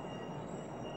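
New York City subway train rolling through an underground tunnel, a steady, fairly faint broadband rumble and rattle with no talk.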